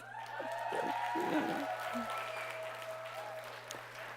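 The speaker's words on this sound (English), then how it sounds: "That round of applause goes right back to you for believing that." Audience applause with some cheering at a business presentation, a steady, fairly faint patter of many hands with a few shouts early on, over a constant low hum.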